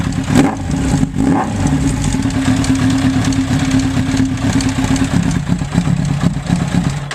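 A Suzuki Bandit 1200 motorcycle running with an open exhaust pipe and no can, its loud, throbbing engine note held close and steady throughout, with slight rises in revs.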